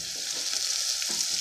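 Ginger garlic paste frying with browned onions in a pan for chana dal, giving a steady close hiss and sizzle with light stirring scrapes, no voices.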